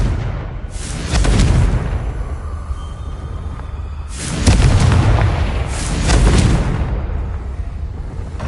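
Fiery Confringo spell blasts from Hogwarts Legacy, a loud deep boom followed by two more rumbling explosions a few seconds apart, each trailing off in a roar.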